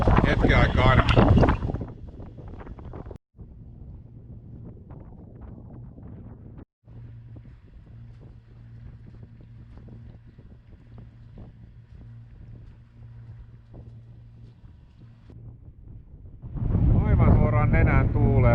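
Sailboat motoring into a headwind, a steady low engine drone running under wind buffeting on the microphone, with people talking at the start and end.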